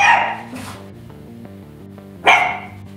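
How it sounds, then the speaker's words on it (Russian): A dog barks twice, loud and close, with a gap between barks over a quiet background tone. "Юми начала гавкать"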